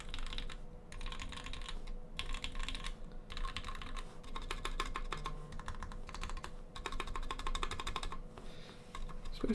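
Rapid, continuous clacking of keys being typed on a custom mechanical keyboard build, close and crisp, with brief pauses between bursts of keystrokes and no talking.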